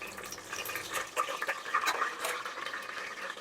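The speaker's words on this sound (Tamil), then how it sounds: "போட்டுட்டு நல்லா கிளறி விடணும்" Whole spices such as cloves, cardamom, star anise, stone flower and bay leaf being stirred in a pot for chicken biryani, giving close, soft scraping and sizzling rustles with light clinks of the spoon against the pan.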